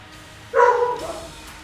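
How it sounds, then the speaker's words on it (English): A single short dog bark, near and fairly loud, during a game of Enter the Gungeon, followed by a brief fading tail. "Why is this dog barking?"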